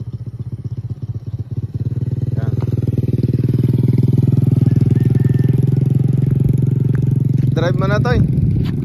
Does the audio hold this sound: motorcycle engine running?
yes